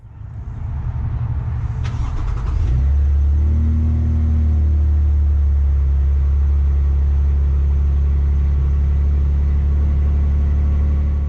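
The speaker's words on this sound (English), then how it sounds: "Let's take it for a ride and see how this TRD 3-inch lift changes the ride of this truck." A brand-new 2025 Toyota Tundra TRD pickup with a 3-inch TRD lift pulls away: a low, steady engine rumble that swells after a brief click and holds as a loud, continuous drone inside the cab.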